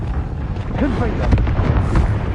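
A Confringo explosion spell from the Hogwarts Legacy game, heard as a rumbling, sustained blast amid busy combat noise. Brief vocal sounds run through the mix.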